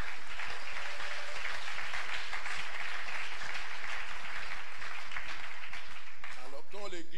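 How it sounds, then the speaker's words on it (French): A church congregation applauds together at a service, a steady wash of clapping mixed with scattered voices that carries on before thinning out near the end. "est-ce qu'on peut acclamer le Seigneur?"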